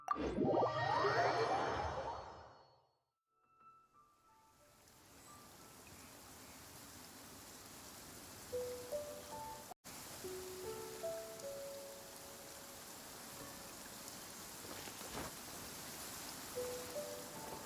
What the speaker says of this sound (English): Quite a downpour. Nothing will get done until it clears.